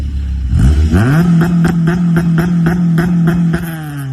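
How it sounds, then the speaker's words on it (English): Car exhaust fitted with an Apex aftermarket muffler, loud and close, with a burst of revs rising into a steady buzzing drone cut by rapid rhythmic popping pulses, then dropping away. "he's running an Apex I muffler, and it sounds really good."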